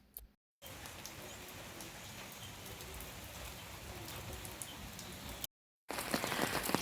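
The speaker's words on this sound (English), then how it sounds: "I love going outside just to hear the sounds of rain." Steady rain falls outdoors in the Kenyan countryside, a dense even hiss of drops pattering on surfaces, close and continuous, broken by two short silent gaps.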